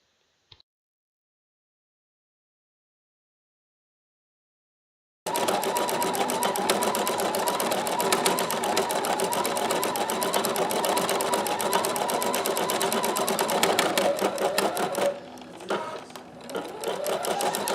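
An embroidery machine stitches out a layer of freestanding embroidery, with matching bobbin and top thread. After about five seconds of silence, a loud, steady, fast mechanical stitching starts and runs continuously, close by and alone.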